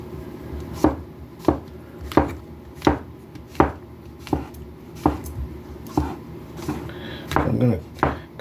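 Knife chopping food on a cutting board in a home kitchen, about a dozen evenly spaced sharp chops, close and clear, with a brief clatter near the end.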